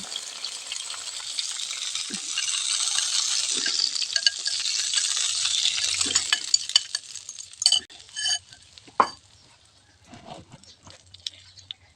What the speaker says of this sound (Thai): หลังจากนั้นก็เอาไข่มาใส่ค่ะ เทไข่ใส่ลงไปเลย